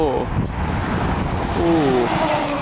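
A Hodaka rat rod motorbike cruising along a road, its small engine droning steadily under wind and road noise, with voices talking over it.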